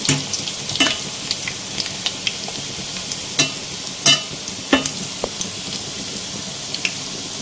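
Chana dal koftas frying in oil, a continuous close sizzle and crackle with sharp spatters and occasional utensil clicks as they are turned, fairly loud and without speech.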